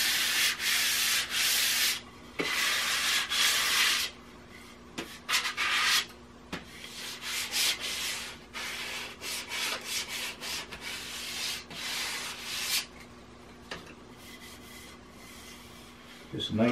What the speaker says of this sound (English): Just nice light sand in between coats to prepare the surface for the next application.